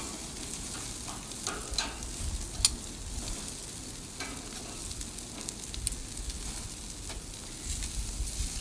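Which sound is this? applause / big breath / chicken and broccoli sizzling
chicken and broccoli sizzling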